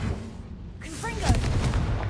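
A Confringo explosion spell rumbles low and heavy in the video game Hogwarts Legacy, swelling briefly as a voice shouts over it midway through the short clip.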